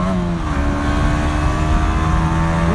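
A 2017 KTM Duke 125 motorcycle accelerates onto an expressway, its single-cylinder engine droning steadily and loudly close by with shifting pitch as it gathers speed, wind noise underneath.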